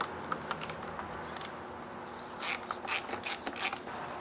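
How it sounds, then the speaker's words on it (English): A ratchet fitted with an 8mm socket clicks in short bursts while loosening the carburetor nuts on a Stihl FS38 grass trimmer, quiet and close, with small pauses between the bursts of ratcheting. "Now you're going to need a ratchet with an 8mm socket at the end."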